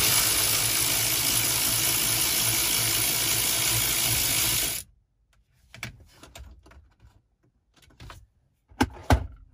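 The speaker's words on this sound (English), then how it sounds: "Now we're going to remove these two 10mm bolts." A ratchet wrench loosens two 10mm bolts on a 2004–2009 Lexus RX330/RX350 dashboard: a loud, steady mechanical clicking runs for several seconds, then stops, followed by sparse faint handling knocks and one sharper clunk.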